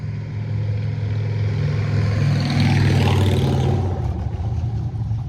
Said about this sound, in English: Got motorcycles around here